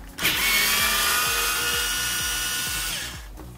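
A power driver with a 7mm socket whirs steadily for a few seconds, backing a screw out of the center dash vent area of a Ford Fiesta ST Mk7, loud and close before spinning down.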